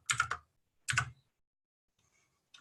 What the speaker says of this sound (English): So while I'm typing it